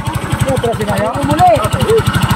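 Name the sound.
motorized tricycle engine running in reverse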